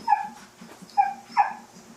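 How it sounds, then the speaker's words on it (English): A dog on a dairy goat farm gives three sharp, close barks, separated by short pauses, over quiet background. "Stop barking."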